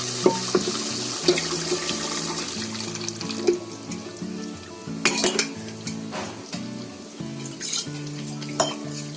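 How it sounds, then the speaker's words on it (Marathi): Wet stirring and scraping in a pot of cooked chicken as lentils are poured in, with metal clinks of utensils and a splashy pour, close and busy, no voices. "आता त्याच्यामध्ये डाळ ओतते"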